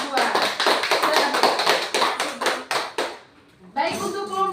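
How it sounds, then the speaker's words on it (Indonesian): A class of children claps in a quick, rhythmic burst for a presenting group, close and loud, then stops abruptly before a teacher speaks. "mari kita beri tepuk tangan untuk kelompok"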